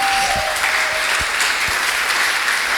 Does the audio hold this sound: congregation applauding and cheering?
yes